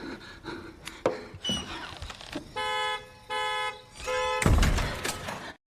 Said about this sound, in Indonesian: Mendengar suara alarm mobil